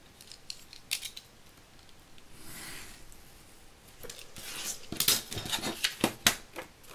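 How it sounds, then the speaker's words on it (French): Utility knife cutting through thin card or paper, a series of close scraping, snipping strokes that grow louder and more frequent toward the end, with a few small handling clicks earlier. "Un cutter, ce sera peut-être mieux pour couper."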